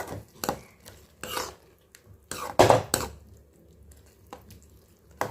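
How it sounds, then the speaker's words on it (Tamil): Intermittent scraping and clinking of a utensil stirring dried fish thokku in a pan, in short irregular bursts with quiet gaps between. "இப்போ இதை எல்லாத்தையுமே அப்படியே மிக்ஸ் பண்ணிக்கலாம்."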